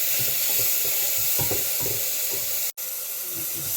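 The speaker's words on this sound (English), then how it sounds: "I'm going to put the tomatoes in and keep stirring until it gets a bit lighter and soft" Tomatoes fry in a pan for a cooking dish of manthakali keerai, giving a steady, loud sizzle throughout with scraping stir strokes layered on top and a brief dropout near the end.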